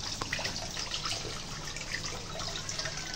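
Tap water runs into a sink while raw meat is rinsed under it, a soft, steady splashing with faint drips and clatter, fairly quiet and with no voices.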